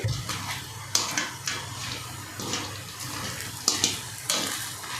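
Masala peanuts fry and are stirred in a pan, giving a steady sizzle broken by repeated sharp scraping and clinking strokes at an uneven rhythm, close by.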